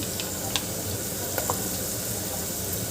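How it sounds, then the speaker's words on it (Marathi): A steady hiss of ground spice paste frying in oil fills the clip, with a few soft clicks of a utensil on the pan, close and continuous. "यालाही छान तेल सुटे तोपर्यंत भाजून घ्यायचं आहे"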